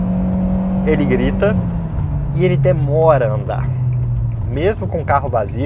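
A Fiat Cronos 1.3 with a CVT whines at full throttle, a steady engine drone that slowly drops in pitch while someone talks over it throughout.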